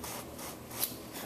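Wiping a rust wash down the hull of a painted Disney Nautilus model, a quiet close rubbing swish in soft repeated strokes with one slightly louder scrape.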